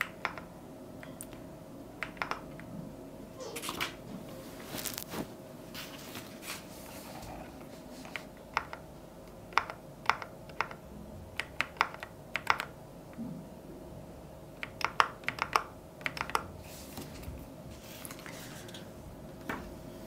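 Key presses on an Epomaker Shadow-S mechanical keyboard, irregular crisp clacks in short clusters and single taps against a quiet room with a faint steady hum, fairly close.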